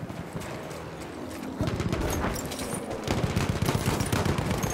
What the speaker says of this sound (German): Feindliche Kavallerie.